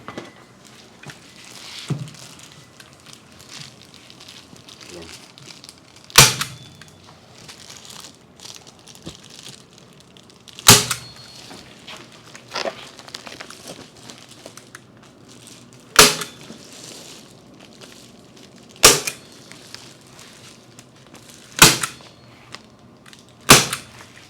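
A staple gun fires sharp, loud single snaps at irregular intervals, about seven in total, while stapling insulation onto an attic hatch, with quieter rustling and handling noise between shots.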